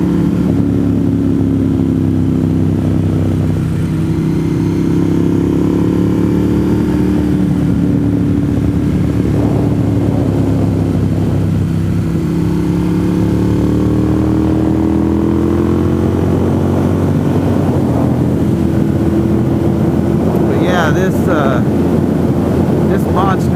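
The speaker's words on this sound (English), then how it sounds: "This Monster M1100 is the perfect bike for the Cherry-Hale Skyway." Ducati Monster M1100 motorcycle ridden on the Cherohala Skyway, its engine droning steadily with gentle rises and falls in pitch under strong wind noise throughout.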